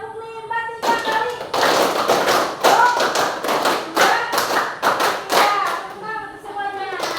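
A school class clapping together in a counted clapping exercise, a run of loud sharp group claps in rhythmic bursts mixed with children's and a teacher's voices.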